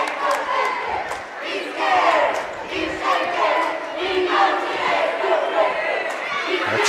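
High school men's basketball crowd in a gym, a sustained loud roar of cheering and shouting voices that swells and dips, with an announcer talking over it.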